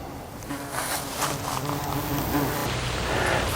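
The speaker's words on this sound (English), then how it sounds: "Say goodbye to the hornets." European hornets buzzing around their nest, a close, continuous droning hum that swells slightly toward the end, with no talking.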